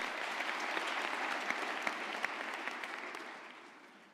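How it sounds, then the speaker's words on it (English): A large audience at a university graduation ceremony claps for a speaker, dense sustained applause with a few louder individual claps, slowly fading toward the end. "Can we please give her a round of applause?"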